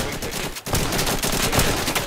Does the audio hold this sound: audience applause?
no